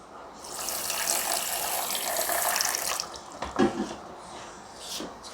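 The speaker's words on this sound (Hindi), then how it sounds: "चाशनी बनाने के लिए लिया है 1 कटोरी चीनी और आधी कटोरी हम पानी डाल देंगे।" Water pours from a bowl onto sugar to make syrup for gulab jamun, a steady splashing rush for about three seconds, then a few lighter splashes and drips.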